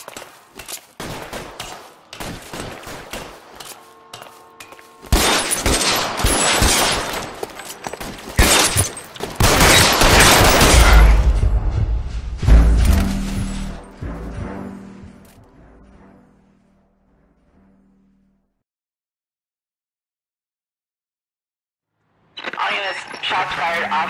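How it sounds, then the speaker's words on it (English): Loud gunfire rips through a police shootout in the video game L.A. Noire, with dense bursts and rapid shots, heavy low booms, then a sudden silence before the shooting resumes. A game voice speaks over the opening. "Shots fired. Officer needs help."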